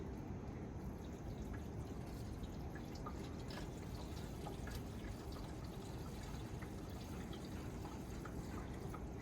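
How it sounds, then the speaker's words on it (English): Orange drink poured by hand into a car engine's filler, a steady soft liquid trickle with faint drips running continuously and evenly from start to finish, no voices. "It's hard pouring Sunny D in your engine."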